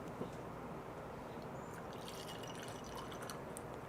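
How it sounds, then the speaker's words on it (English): Red Bourbon natural coffee is poured into a cup, a faint, steady liquid trickle close by with a few light drips and no talking. "Alright, we're gonna pour onto our cup."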